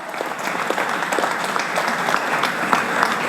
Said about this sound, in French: Tout le monde applaudit, Michel.